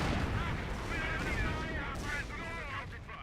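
Artillery barrage in the Company of Heroes strategy game, a dense continuous rumble of shell fire and explosions running under an excited commentator's voice throughout.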